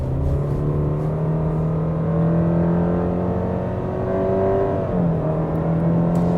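A 2025 Subaru Legacy Premium with a CVT accelerates from inside the cabin, a loud, steady engine drone that rises smoothly, then dips briefly at a stepped ratio change and climbs again.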